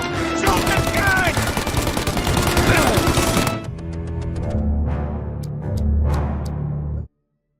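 Automatic gunfire in a Mafia: Definitive Edition gunfight, dense and loud for the first half, then scattered shots and impacts over game music and ambience before cutting out.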